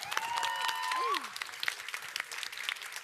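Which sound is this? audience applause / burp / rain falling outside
audience applause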